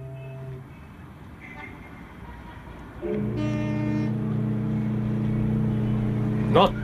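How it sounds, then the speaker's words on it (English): Steady city traffic noise, a low rumbling wash of engines that swells louder after a few seconds, with a sustained droning hum and a brief sharper burst near the end. "In a little while, the traffic will die away"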